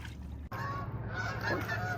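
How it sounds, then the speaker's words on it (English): Geese honk loudly and repeatedly on the Ohio River, a noisy flock calling over one another close by, with a brief dropout near the start. "There's the geese."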